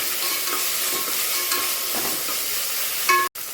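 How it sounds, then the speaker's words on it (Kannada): Ginger garlic paste fries in a pan, a continuous close hissing sizzle with occasional stirring scrapes, cut off by a brief silence near the end. "ಹಾಕಿ ಇದನ್ನು ಚೆನ್ನಾಗಿ ಫ್ರೈ ಮಾಡ್ಕೋತಾ ಇದ್ದೀನಿ."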